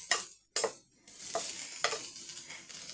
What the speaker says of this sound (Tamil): இது நல்லா பொரிஞ்சு வரட்டும் பார்க்கலாம்